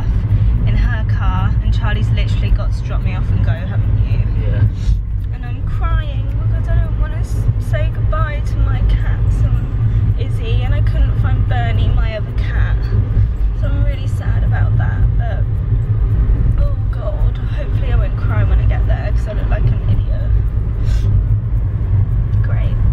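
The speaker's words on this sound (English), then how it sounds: "We're coming in Charlie's car because he's got my like suitcases" Inside a car on the drive to university, a steady low engine and road rumble fills the cabin throughout, with people talking over it.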